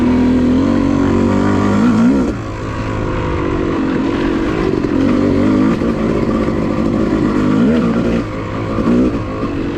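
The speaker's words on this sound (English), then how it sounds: "enjoy the sound of a lugging YZ250 at Enoree OHV in beautiful South Carolina" A Yamaha YZ250 two-stroke dirt bike lugs along a trail at Enoree OHV in South Carolina, its engine a steady close burble with brief rises in revs near two and eight seconds, continuous throughout with no talk.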